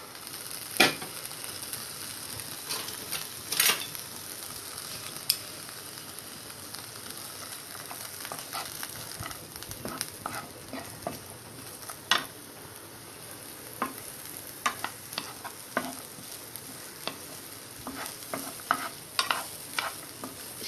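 Capsicum and onion sauté in a pan on high flame for a pan pizza topping, with a constant close sizzle and frequent sharp crackles and stirring clicks, no voices.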